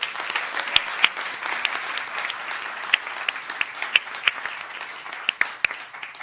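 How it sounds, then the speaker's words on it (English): Audience applause at a school board meeting, a moderate sustained clapping wash with sharp individual claps popping out near the microphone throughout. "Let's give her a round of applause."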